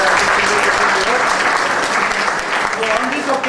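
An audience at a silver jubilee celebration and placement event at a CADD Centre in Dwarka, Delhi claps loudly and steadily in a dense, continuous round of applause throughout.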